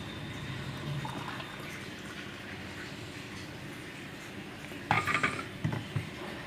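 Blended grape juice poured into a container, a steady liquid rush with a brief clatter of the vessel near the end, with no voices.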